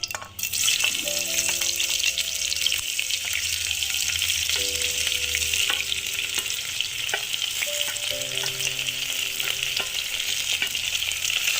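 Sliced onions fry in ghee for ghee rice, giving a loud, constant sizzle with occasional stirring scrapes, while a tonal background hum or music runs underneath.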